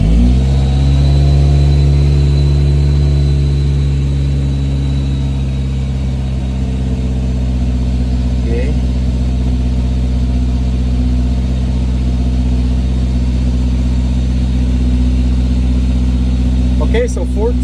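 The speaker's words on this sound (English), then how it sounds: "We're gonna start it up and see what it reads." A supercharged Honda S2000 engine cranks and catches, then settles into a steady, loud, droning idle close by, with a faint whine above the low rumble and no talking.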